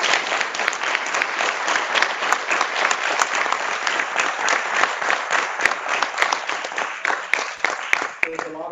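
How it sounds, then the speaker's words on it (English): An audience at a school board meeting gives sustained applause, dense rapid clapping from many hands with voices mixed in, holding steady for several seconds before thinning toward the end. "just give everybody a round of applause one more time"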